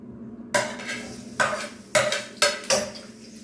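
Fried rice stirred in a pan with a spatula, giving four or five sharp scraping strokes at an irregular pace over a low background hum, close and fairly loud.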